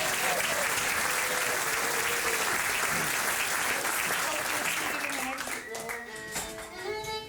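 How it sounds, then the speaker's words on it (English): A concert audience applauds volunteers in a long, dense burst of clapping that fades toward the end as a few voices begin talking. "Round of applause for the wonderful volunteers"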